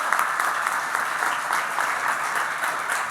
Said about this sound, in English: Please come on up and give them a warm round of applause